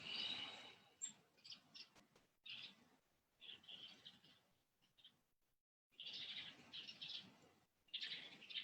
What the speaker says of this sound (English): there's noise, like the beautiful bird behind me.